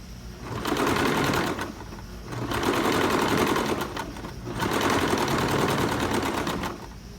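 A sewing machine stitches a blouse seam in three steady bursts of rapid needle clatter, each lasting about two seconds with short pauses between, close and loud with no talking.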